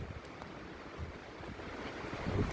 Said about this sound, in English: It is rather windy up here